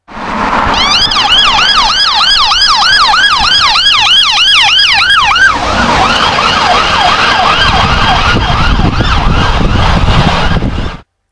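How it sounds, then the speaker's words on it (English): An ambulance siren wails past in repeated rising-and-falling sweeps, loud and close at first, then dropping in pitch halfway through as the vehicle moves away, with road and traffic noise beneath and no voices. "how an ambulance's siren sounds different as it goes past us"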